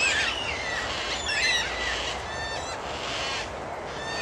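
Black cockatoos squawking around a suburban street in the morning, harsh drawn-out calls from several birds overlapping, loud and fairly close, no talking.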